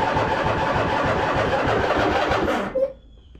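A zero turn mower engine cranks on choke with a steady, rapid chugging rhythm for nearly three seconds, close and loud. It cuts off abruptly without catching, leaving near silence.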